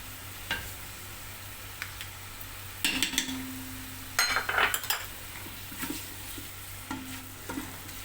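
Butter sizzling in a pan for a chickpea and vegetable stew while a spoon stirs and clinks against the metal, with soft frying hiss under scattered scrapes and taps, close up with no voices.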